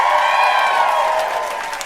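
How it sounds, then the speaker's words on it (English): A comedy show audience applauds and cheers in a packed venue, a dense wash of clapping with a shrill whistle-like tone riding on top, fading slightly toward the end. "Clap it up for yourselves."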